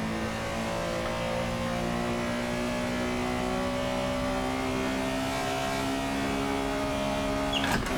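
A Porsche 911 Carrera RSR 3.0 race car engine in Assetto Corsa drones steadily at high revs, its whining harmonics holding nearly constant throughout, loud and close.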